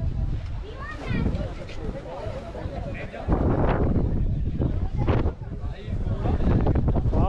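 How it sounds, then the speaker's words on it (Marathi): Strong monsoon wind on the Irshalgad fort trek buffets the microphone in heavy, roaring gusts that swell and ebb, with a person talking through the noise. "वारा एवढा सुटलाय की बोलायला जमत नाहीये"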